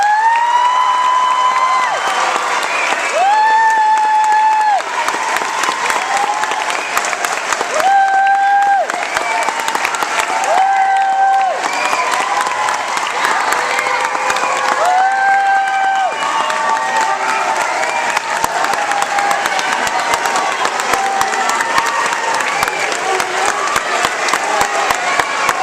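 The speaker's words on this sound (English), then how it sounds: "That was a pretty good applause." Students at an eighth grade band farewell break into sustained applause and cheering, a dense, loud crowd roar with whoops and shrill, rising shouts across the whole stretch.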